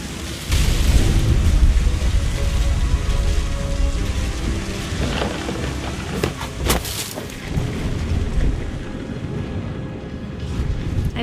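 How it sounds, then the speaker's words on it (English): Thunderstorm in the video game What Remains of Edith Finch: steady heavy rain on surfaces throughout, with a couple of sharp thunder cracks and rumbles in the middle, close and loud, no talking. "The thunder sounded much too close and full of angry power"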